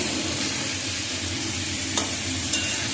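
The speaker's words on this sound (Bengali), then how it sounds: "সামান্য জল দিয়ে মশলাটাকে ভালো করে কষিয়ে নিচ্ছি যাতে পুড়ে না যায়।" Spice masala frying with a little water in a pan, a continuous close crackling sizzle with a couple of sharp clicks from stirring.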